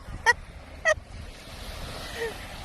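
Seagulls give two short, sharp cries close together near the start, standing clearly above a soft outdoor wash of wind or surf that carries on quietly afterward.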